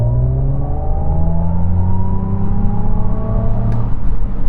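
A Mercedes 250 Plus launching hard in sports mode, its engine note climbing steadily through the gears in a continuous, loud, close rising whine and roar with no talk over it.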